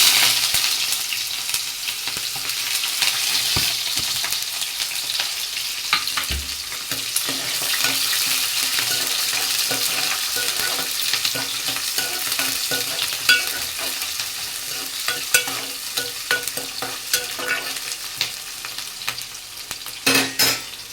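Mustard seeds, cumin and onion pieces frying in hot oil: a continuous bright sizzle with scattered pops and occasional stirring clatter throughout, steady and close.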